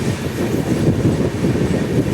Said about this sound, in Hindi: पुष्पक एक्सप्रेस है, लखनऊ से मुंबई के लिए चलती है